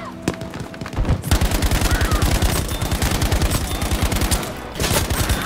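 Gunfire crackles in Battlefield V, a loud, dense stream of rapid automatic shots rattling almost without pause, then a short lull and another burst.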